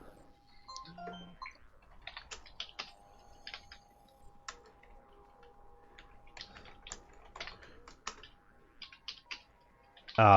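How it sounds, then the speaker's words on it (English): Fast typing on a computer keyboard during play of the game Star Trek Online, with a steady run of sharp key clicks for about ten seconds, bursts and pauses, and a louder thump at the end. "it's honestly a test in speed typing"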